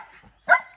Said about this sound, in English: I think everybody's afraid of you, Lainey, because you're just barking.